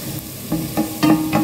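Garlic and onion sauté in a pan under a soft, steady sizzle, broken by three or four quick spatula scrapes in close succession.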